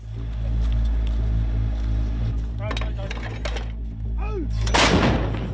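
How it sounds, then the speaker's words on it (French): A salvo of artillery fire from Caesar cannons booms out, heavy rumbling blasts over a low engine drone, with a sharp loud burst near the end. "Il y a eu une première salve de tirs d'artillerie"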